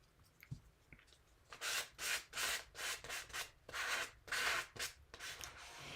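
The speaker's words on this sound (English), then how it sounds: "I have just some orange acrylic paint handy. Oops, actually I'm going to scrape it on." Orange acrylic paint scraped across a junk journal page, making a series of about eight close, rhythmic rasping strokes, each a short dry swish with brief pauses between, fairly quiet and without any talk.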